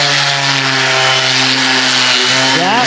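A DeWalt orbital sander running steadily on fiberglass, close and loud with a constant whirring hum that shifts pitch just before the end.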